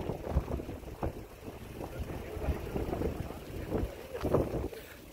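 Gusty wind buffets a microphone outdoors in Alaska, a rumbling, uneven low roar with irregular thumps that rises and falls throughout.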